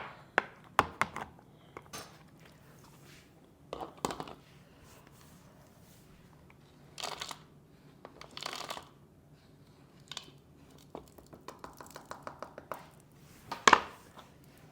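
A knife chopping a bar of bittersweet chocolate on a board, irregular sharp cuts and crunches, some single and some in quick bursts, close and fairly quiet with no talking.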